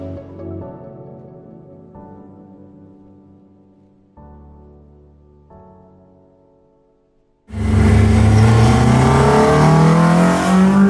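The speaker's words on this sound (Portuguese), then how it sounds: "Ouviste o VTEC, meu amigo?" A car engine with VTEC idles and blips in short, fading revs, then surges into a loud, sustained high-rpm howl with rising pitch, close and dominant.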